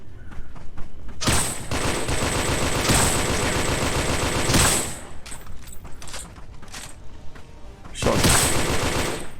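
Shotgun blasts boom in bursts through the Special Force VR shooter game, several loud, close shots spaced out over a busy background of rapid game gunfire.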